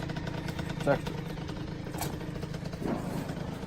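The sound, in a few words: rebuilt Kawasaki KX60 dirt bike engine running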